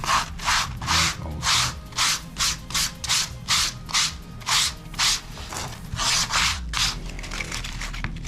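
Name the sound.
rough sanding the back of a DIY belt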